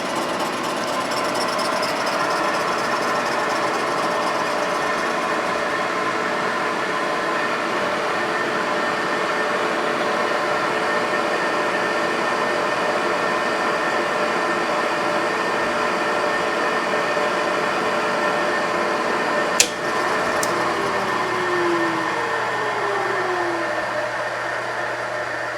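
A boring machine cuts a cylinder of a Yamaha HS1 90cc twin, giving a steady loud mechanical whine and chatter that runs unbroken, with one sharp click near the end.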